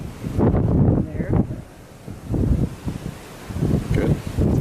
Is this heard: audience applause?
no